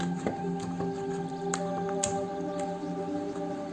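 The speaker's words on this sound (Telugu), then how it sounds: "కొంచెం గోంగూర పచ్చిమిర్చి ఒకటే మెదపాలి." Gongura leaves and green chilies being mashed together by hand, giving soft wet squishing and pressing sounds at close range over a steady background hum, with no talking.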